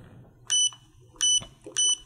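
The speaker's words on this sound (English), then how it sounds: "it recycles and beeps every time" A Godox V860iii speedlite fires three times. Each shot gives a short click, then a bright two-tone recycle beep, evenly spaced about two-thirds of a second apart, close and clear over a quiet room.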